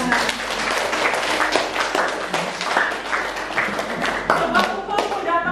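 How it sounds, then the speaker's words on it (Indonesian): A group of people clapping their hands together in a classroom activity, a dense, steady patter of many claps close by lasting several seconds. "Tepuk tangan."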